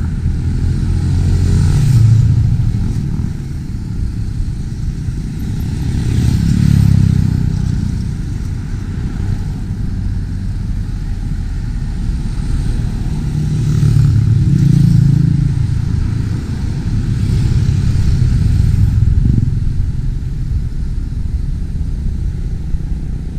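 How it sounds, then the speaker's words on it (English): An airplane climbing out from the airport near the First Mactan Bridge in Cebu, Philippines, gives a low, steady rumble that swells and fades several times, with no one speaking. "There still an airplane just flying out"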